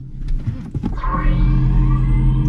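A Mercedes-AMG EQS 53 electric car pulls away hard using launch control, its motor and drivetrain rising into a building whine as it accelerates. Loud and close, with no talking.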